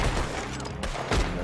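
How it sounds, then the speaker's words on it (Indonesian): Gunfire from the Red Dead Online video game, a quick cluster of shots at close range with one more sharp burst about a second later, heard alone without talk. "Memang kena tembak je lah ni."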